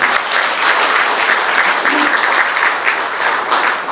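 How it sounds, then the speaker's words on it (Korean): Loud, steady clapping from the crowd at a provincial council New Year reception carries on without a break and without voices. "동의해 주시면 박수 한번 드립니다."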